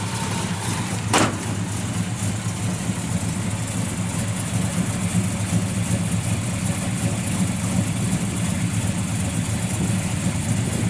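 A car engine with a four-barrel intake, headers and 2.5-inch dual exhaust through Flowmaster mufflers idles steadily and loudly, a constant rumbling drone throughout.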